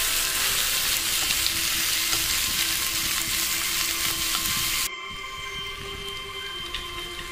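Nuts stirred as they fry in a pan for a tender coconut roast, giving a loud, dense, continuous sizzle up close that suddenly drops to a quieter hiss partway through.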